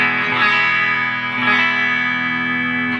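Electric guitar played through a ZOOM MS-50G+ multi-effects pedal into a Fender Twin Reverb amp, sustained chords with effects, two strummed swells ringing out steadily, loud and alone.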